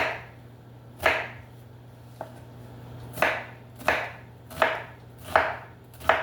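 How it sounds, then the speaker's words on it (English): A knife chops through half an onion into diced pieces on a cutting board, six or seven sharp, fairly loud strokes at a steady, unhurried rhythm, each a crisp thunk with a short scrape, over a low steady hum. "I'm just gonna cut my onions up into diced pieces"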